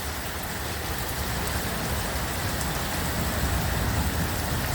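A downpour of heavy rain in Ajman during flooding, a thick unbroken roar of drops hammering surfaces nearby, loud and constant with no speech.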